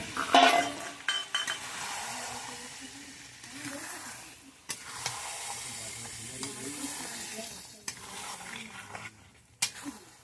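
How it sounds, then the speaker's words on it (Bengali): Meat stir-fries with spices in a pan during home cooking: a quiet, low sizzle under repeated scraping strokes and occasional sharp clinks of a utensil against the pan. "এবার মাংসগুলো আস্তে আস্তে দিয়ে দেওয়া হলো মশলা কষানোর পরে"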